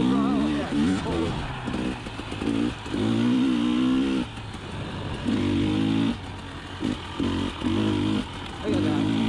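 A 2020 KTM 300xc TPI two-stroke enduro motorcycle pulls hard at full throttle in third gear, its loud buzzing engine rising and dropping in bursts as the throttle opens and closes, close to the rider, with a voice talking over it.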